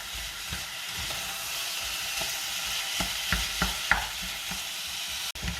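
Minced meat and onions for moussaka fry in a pan with a constant sizzle, broken by several distinct scraping stirs of the spoon partway through.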